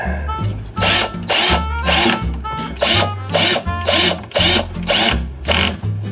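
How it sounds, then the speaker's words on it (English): A power drill whirs in repeated short bursts, about eight pulses in steady rhythm, loud and close as screws are driven in on a fifth-wheel trailer. "can I get my drill up here to get these in?"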